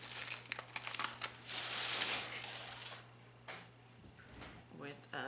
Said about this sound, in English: And this is wrapped in tissue paper.